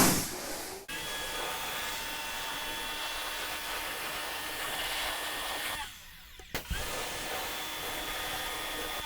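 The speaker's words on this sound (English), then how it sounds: "now we're just going to rinse it off and just power wash all that cleaner off it" A pressure washer rinses wheel cleaner off a 2020 BMW X6 wheel with a continuous hissing, motor-driven drone. The spray breaks off briefly near the start and again with a short gap about two-thirds through.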